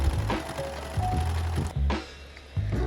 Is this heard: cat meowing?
no